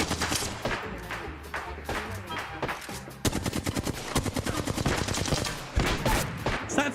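Rapid bursts of video game gunfire, sustained automatic volleys broken by short gaps and sharp single shots, loud and dense throughout.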